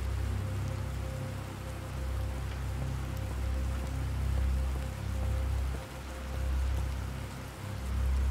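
Steady rain in the survival game The Planet Crafter: a dense, even rainfall wash with a low rumbling undertone and a faint continuous tone, unbroken for the whole stretch.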